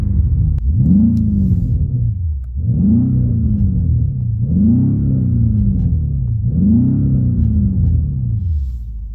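A BMW X5 M Competition twin-turbo V8 with its cabin sound synthesizer switched on revs loudly in four rising and falling sweeps, about two seconds apart, with a steady deep rumble between them and no voices.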